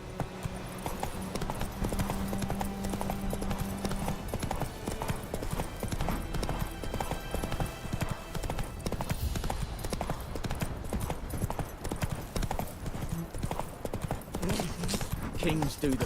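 Roach, the horse in The Witcher 3: Wild Hunt, gallops with steady clip-clop hoofbeats under dense game music and voices, continuous and moderately loud throughout.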